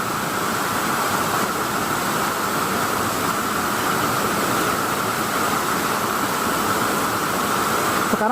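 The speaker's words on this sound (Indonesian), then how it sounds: "sekarang posisi kita masih berada di air terjun yang paling bawah ya" The lowest tier of a waterfall roars as a steady, dense wash of falling water, loud and unbroken from start to finish with no other sound standing out.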